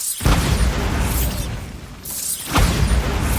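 Bombarda blasting spell detonations in Hogwarts Legacy, two loud explosive bursts with shattering debris and a rumbling tail between them, no talking.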